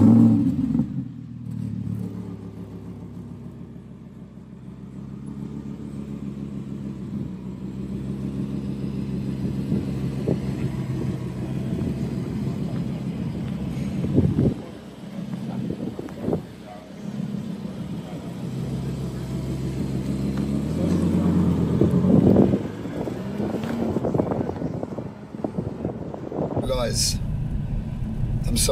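A 2023 Audi R8 V10 Spyder on a racetrack, engine droning steadily with rises and swells of revving, heavy wind buffeting the open-top cabin, and someone talking over it most of the time.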